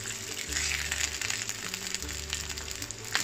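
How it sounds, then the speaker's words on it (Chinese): Crab sticks and shiitake mushrooms stir-fry in a hot pan with shredded carrot, a steady close sizzle with bursts of crackle as the ingredients are tossed. "一起爆香"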